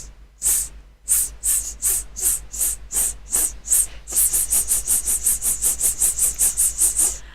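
Breathing exercise from a singing lesson: four long, breathy hissed exhalations, then a rapid series of shorter, evenly spaced sharp puffs, close and fairly loud with no talking.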